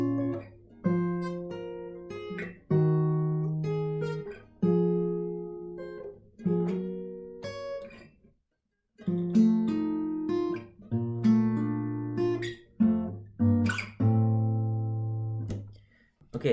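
A guitar slowly plays the chorus and main riff of a song, with clear strummed and picked chords ringing one after another and short pauses between them, alone and fairly close.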